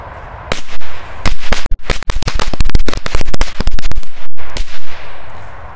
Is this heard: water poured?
no